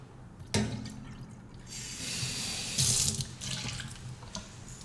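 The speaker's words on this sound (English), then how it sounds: "Do you want the rest of this, or should I rinse it? No, rinse it, please." Water runs from a kitchen sink tap to rinse out a container, a steady broadband rush that swells louder midway and splashes harder near the end, close and alone without talk.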